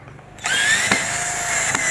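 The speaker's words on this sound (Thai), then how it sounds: "เมื่อได้อย่างนี้แล้วเอาสว่านเลยนะครับเพราะว่าไม่ต้องเสียเวลานะครับ" Power drill driving into a refrigerator door, starting abruptly after a quiet moment and running as a steady high whine for over a second, with a couple of brief load bumps, loud and close.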